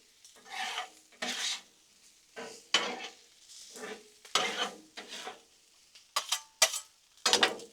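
Shrimp fried rice gets mixed on a Blackstone griddle: a run of scraping, clattering spatula strokes that come in bursts over a soft sizzle, close and fairly loud, with no talking.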